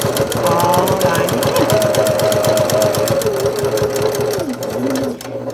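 Sewing machine stitching the border of a handmade needle tag, running in a steady rapid rhythm of needle strokes close by, with a brief slowdown near the end.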